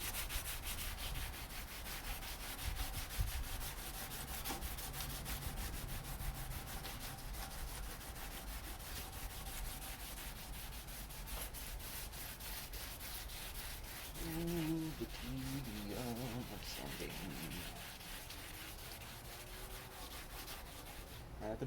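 Sandpaper rubbed by hand over a painted wheel liner, making a steady, close scratchy rasping that continues throughout in repeated strokes.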